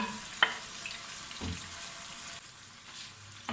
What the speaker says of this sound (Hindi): इसको अब हम मीडियम टू हाई फ्लेम पे अच्छे से भून लेंगे।